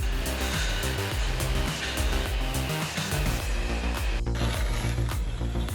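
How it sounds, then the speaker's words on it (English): A Fecon Stump X stump grinder on a skid steer chews through tree stumps with a continuous, dense mechanical roar and rapid rhythmic grinding pulses, loud and close throughout. "What you're looking at is the Fekin Stump X skid steer stump grinder."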